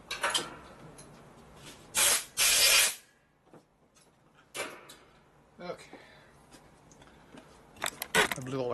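Short, loud bursts of compressed air blast debris out of a screw hole in a warm motorcycle engine case, two hissing blasts separated by quieter shop noise and faint handling sounds.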